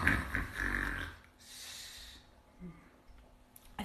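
A voice imitates a big creature snoring with rough, grunting snorts and breathy rumbles, followed by quieter wheezing sounds.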